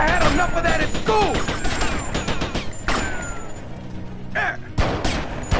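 Gunfire in the video game Grand Theft Auto: Vice City: quick bursts of shots mixed with clanks, impacts and game effects in a dense, loud scene, with a voice talking over it.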